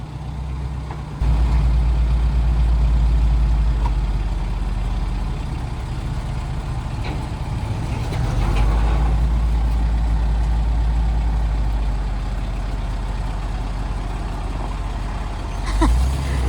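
A truck engine runs steadily as the truck drives out from under a flatbed during a log truck build, with a deep rumbling idle, a slight rise partway through and a brief hiss near the end.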